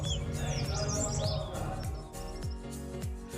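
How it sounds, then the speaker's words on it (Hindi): Birds chirp at dawn around a mountain resort in Uttarakhand's Kumaun hills, with quick bright tweets and trills scattered over a steady, louder tonal musical bed. "सुबह होते ही रिजॉर्ट के आसपास की जगह पक्षियों की चहचहाहट से गुलजार हो गई।"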